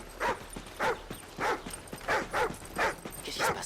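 A military dog whimpers in the Call of Duty: Ghosts campaign, a series of short, regular whines and yelps about every half second, fairly close and alone.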